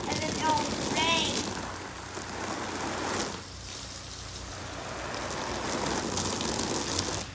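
Water from a garden hose sprays like rain onto a trampoline, a dense hissing patter that continues throughout, with brief voices and squeals over it at the start.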